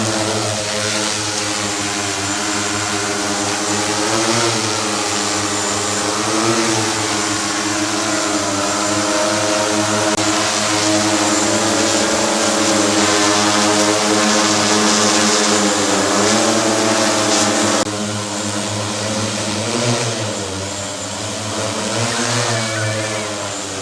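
An agricultural drone flying over crop fields gives a loud, continuous propeller drone with a steady buzzing whine that rises and falls slightly in pitch, close and unbroken throughout.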